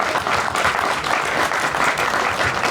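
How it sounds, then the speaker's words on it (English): An audience at a station grand opening gives a round of applause, a dense and steady wash of clapping close by that lasts the whole stretch without a break. "let's give them a round of applause for really working hard"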